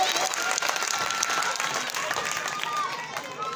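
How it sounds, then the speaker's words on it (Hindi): Strong audience applause greeting an honored guest, a comic politician, at a school function, steady dense clapping filling the whole stretch at a fairly even loudness with no break. "इनका जोरदार तालियों से स्वागत करेंगे।"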